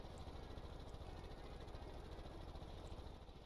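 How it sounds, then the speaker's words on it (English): Truck engine running steadily in Stormworks, a continuous low rumble with a vibrating, idling-like drone that holds at an even level throughout without any speech. "It sounds like a truck engine."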